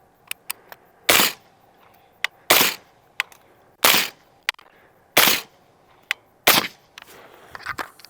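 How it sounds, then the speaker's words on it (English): Suppressed 5.56 rifle shots through an LPM Torch suppressor with a solid end cap ring out six times at fairly even intervals, each a loud, sharp report with a short tail, separated by fainter mechanical clicks. "this is the torch with the solid end cap, 6 rounds"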